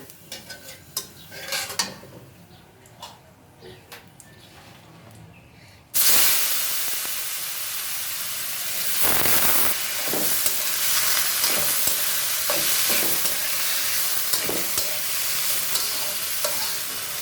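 Cumin seeds and turmeric tempered in hot oil for a vegetarian dish hit the pan with a sudden loud sizzle. A steady hissing fry follows, with occasional stirring clinks of utensil against pan.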